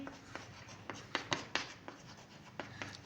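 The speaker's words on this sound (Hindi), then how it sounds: "देखिए लिख देते हैं" Chalk taps and scratches on a classroom blackboard as a Class 10 chemistry definition is written out, a sparse run of short, close, quiet strokes and clicks with light room background.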